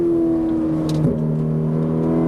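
A Ferrari 458 Italia engine drones on throttle at a steady pitch, with a brief shift in tone partway through, loud and close throughout.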